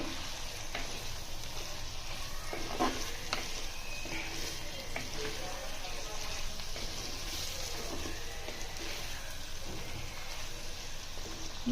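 Tamarind pulusu with drumstick and raw mango simmering and frying in oil in a covered pot, giving a steady, even bubbling sizzle with faint clinks throughout and no talk.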